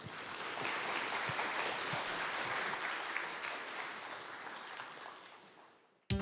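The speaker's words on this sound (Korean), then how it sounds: "큰 박수로 환영해 주시기 바랍니다" A lecture audience breaks into dense, sustained applause to welcome a professor taking the stage at a public science talk, the clapping steady at first, then slowly thinning and fading before a brief sound at the very end.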